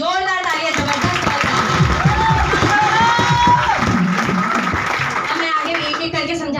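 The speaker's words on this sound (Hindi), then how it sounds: "इसके लिए जोरदार तालियां, जबरदस्त।" Loud applause and cheering from an audience at a business plan presentation in Rajnandgaon, dense clapping mixed with crowd voices and shouts, with a voice speaking over it near the end.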